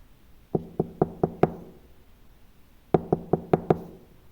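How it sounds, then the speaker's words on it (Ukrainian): Knocking on a door in two bursts of five sharp raps each, separated by a short pause, close and clear with no talk. "чуєте, до нас хтось стукає?"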